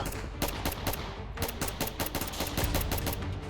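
Gunfire in the Roblox video game crackles in rapid bursts, sharp shots stacking into quick machine-gun-like volleys with brief gaps, loud and close throughout.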